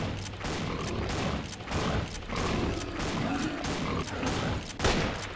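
Automatic gunfire aimed at a boar in the video game STALKER, several sustained bursts of rapid shots with brief pauses between them, dense and loud throughout.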